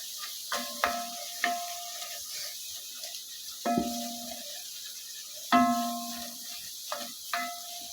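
A spoon scrapes and knocks in a pan of tomato sauce with paprika, giving sparse clinks and short metallic scrapes over a faint sizzle, close by with no voices.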